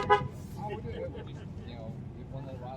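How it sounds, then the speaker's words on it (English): One short horn honk from a 2019 Jeep Wrangler Rubicon off-road sounds right at the start, followed by people talking over low traffic noise. "Just honk at him, get him out of the way."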